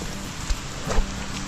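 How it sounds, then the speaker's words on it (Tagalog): Heavy rain pouring in a steady dense hiss, with a couple of brief thuds from nearby activity, close and loud with no speech. "habang tumatagal lumalakas na yung ulan."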